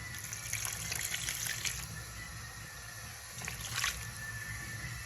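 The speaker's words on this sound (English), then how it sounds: "I'm going to go ahead to add water" Water pours into a pot of simmering chicken pepper soup, a soft, steady splashing and trickling that swells in two short bursts and stays fairly quiet throughout.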